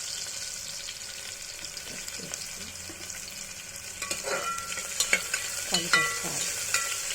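Finely chopped onion fries in a pan with a steady close sizzle, and the crackle grows louder and more uneven as the pieces are stirred, with sharp spatters near the end.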